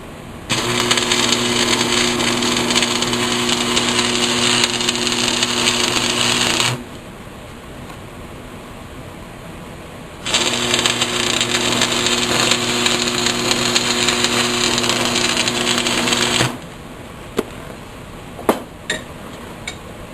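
Metal is welded with a clamp in place, giving a loud, steady buzzing arc in two long bursts separated by a quiet pause. A few faint metallic clinks follow at the end.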